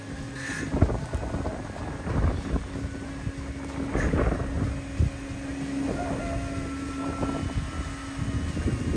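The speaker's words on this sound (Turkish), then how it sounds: "aşırı derecede fırtına var arkadaşlar." Strong gusty stormy wind buffets the microphone with rumbling, uneven blasts and a steady low hum underneath, continuous for the whole stretch, outdoors at a sheep pasture.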